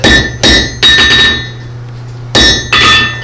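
A blacksmith hammers a steel bar on an anvil at a blacksmith event, striking loud, close, ringing metallic blows in a quick group of three, a pause, then two more.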